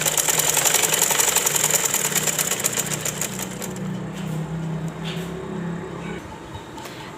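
Sewing machine stitching a ladies' sleeve in a steady, rapid mechanical whir that runs loud for a few seconds, then fades to quieter intermittent taps.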